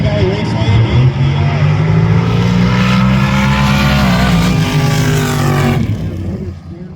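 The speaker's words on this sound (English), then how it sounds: "the blown small block or big block Chevy engine" A drag racer with a blown small block or big block Chevy engine roars hard on a sand drag strip, its pitch climbing steadily before cutting off, loud and close, with an announcer talking over it.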